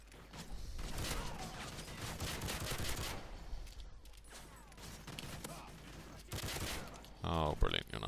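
Pistol fire in Modern Warfare 3 Spec Ops, rapid clusters of sharp shots in repeated bursts with short gaps, mixed with mechanical clatter, while someone talks over the action.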